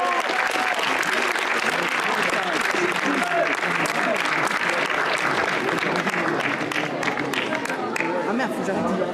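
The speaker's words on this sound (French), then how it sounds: "je vais applaudir en fait" Audience applause at a school short film festival in Auxerre, a dense, steady wash of many hands clapping close by for the full stretch, with a few voices mixed faintly underneath.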